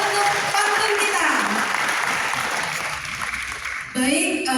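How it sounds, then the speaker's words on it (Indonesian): An audience applauds at an economic seminar in Aceh, a dense steady wash of clapping that dips briefly near the end before swelling again, with voices mixed in. "Tepuk tangan untuk pantun kita."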